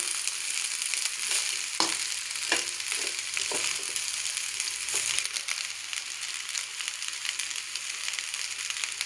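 Fried egg being stirred into paneer fried rice in a hot pan, giving a steady close sizzle broken by a few sharp scraping and tossing strokes, with no talking.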